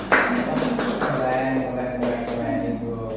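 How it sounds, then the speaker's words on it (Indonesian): A small group claps after an academic supervision observation session at a school, a brief scattered patter of hands heard over light room noise and faint voices. "Oke, tepuk tangan dulu."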